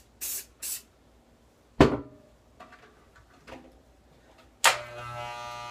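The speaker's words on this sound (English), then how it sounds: "I have some of my Cool Care Plus here, which is like a lubricant for my blades. So we're gonna go ahead and give this a spray." Two quick hissing bursts of Cool Care Plus lubricant are sprayed onto hair clipper blades during a gentleman's zero-fade haircut. A sharp clack and a few softer clicks and rattles follow as the blades are handled.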